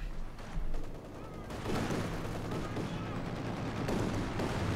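Anti-aircraft flak guns fire in rapid, dense bursts during a Company of Heroes 2 battle, forming a loud, continuous barrage with heavier booms layered through it.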